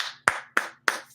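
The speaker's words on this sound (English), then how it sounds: "If you're happy and you know it, clap your hands." Hands clap three times in a slow, even rhythm, each clap sharp, close and fairly quiet, with brief silence between the claps.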